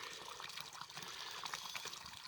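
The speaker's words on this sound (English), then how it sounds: "I just put a piece of eaves trough down. That's spring water." Spring water trickles down a short piece of eaves trough outdoors, a soft, steady pouring splash that stays quiet and even throughout.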